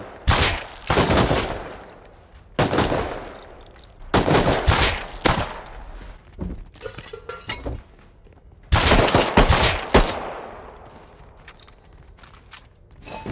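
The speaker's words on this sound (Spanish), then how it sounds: "Creo que es la primera que disparo con este arma" In the video game Rust a weapon fires in several loud, sharp bursts of rapid shots, with gaps of quieter sound between the volleys.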